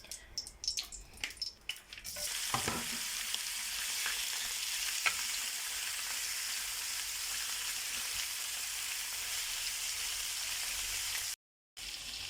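Liver and kidneys seasoned with cumin, olive oil and coriander frying in a pan, a steady loud sizzle that starts after a few seconds of clatter and continues evenly, with a brief dropout near the end.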